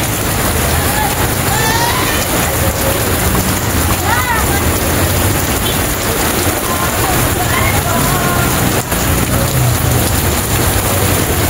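Steady rain hisses loudly and without a break, with faint voices and bird chirps mixed in behind the downpour.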